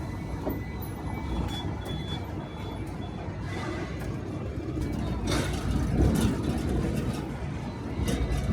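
A Hong Kong tram rumbles by on a busy street, a steady low rolling roar with faint high squeals over continuous city traffic noise, fairly close and loud throughout.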